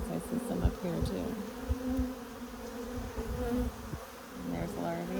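Honeybees buzz close by at an opened hive during an April hive inspection, a wavering, layered hum with some faint handling noises underneath.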